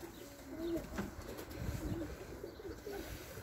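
Racing pigeons at a home loft after a competition flight, cooing in soft repeated low calls close by over a steady rustling background, with possible faint wing movement.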